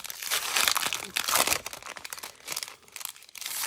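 A pad of paper Post-it notes rustles and crinkles up close, with bursts of crumpling and flipping sheets coming in uneven waves and no speech.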